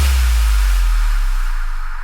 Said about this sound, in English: And then from Splice, I just found this super cool impact here.